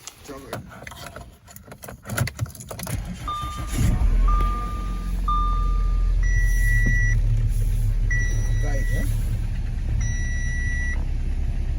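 An Audi A4, unused for about two and a half years, starts after an oil pan rebuild: keys jangle, the dash chimes in repeated beeps, then the engine cranks and settles into a steady, close idle.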